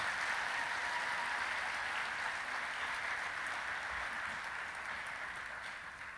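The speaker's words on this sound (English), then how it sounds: "If you enjoyed that, give another big clap round of applause." An audience at a school Veterans Day program claps after a performance, a steady, even roar of many hands that holds throughout and slowly eases off toward the end, somewhat distant.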